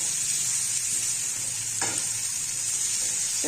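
Pallipalayam chicken is sautéed in a pan with a steady, close sizzle that runs throughout, and a single scrape of a spatula stirring partway through.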